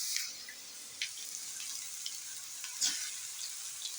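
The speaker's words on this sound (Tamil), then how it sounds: "எண்ணெய் ஊற்றி கடுகை போட்டேன். கடுகு சடப்படான்னு பொரியுது. இந்த காளான் அள்ளி கொண்டாயி அப்படியே இதில் போட்டுடலாம்." Mustard seeds and mushrooms fry in hot oil with a soft, steady hiss and a few faint pops and utensil clicks.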